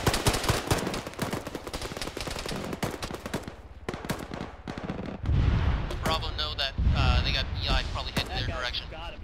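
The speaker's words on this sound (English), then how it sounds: "That was a fantastic grenade." Bursts of rapid gunfire and heavy thuds in the ShackTac military shooter, dense crackling shots early, then deep booming blasts, with voices talking over the action.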